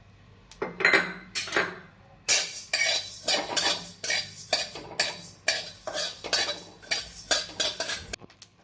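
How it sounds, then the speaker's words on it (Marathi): Half a bowl of coriander seeds being dry-roasted in a pan for chakli flour, with a utensil repeatedly scraping and clinking against the metal in a steady, loud rhythm of strokes and no talk. "आता अर्धी वाटी धना भाजून घेऊया"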